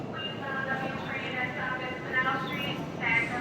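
Steady rumble and rattle inside a moving New York subway car, with faint squeals and clatter beneath people talking nearby.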